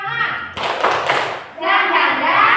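A classroom group of children performs a rhythmic 'spirit clap' of hand claps and taps, dense bursts of clapping broken by short pauses, with children's voices mixed in.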